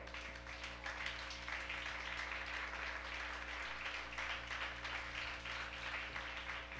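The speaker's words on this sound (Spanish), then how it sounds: "Dele un aplauso al Señor." Steady clapping from a church congregation fills the space, a continuous wash of applause with a low hum underneath and no voices rising above it.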